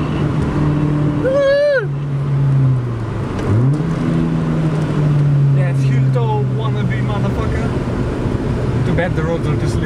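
A Honda car engine climbs in pitch as it accelerates in second gear and kicks into VTEC, with rising whines and a gear change, under loud voices talking in the cabin.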